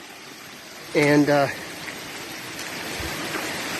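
Water rushes steadily over rocks on an Appalachian Trail waterfall climb, a constant broad wash heard close by, with a short burst of speech near the start.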